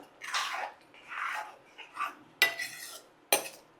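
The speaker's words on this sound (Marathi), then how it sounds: "साधारण एक पाव कप दूध घातलं. याला मिक्स करायचं." Milk being mixed into a paneer and sweetcorn gravy in a pan: a few soft scraping, stirring swishes, then two sharp clinks of a spoon against the pan, close and fairly quiet.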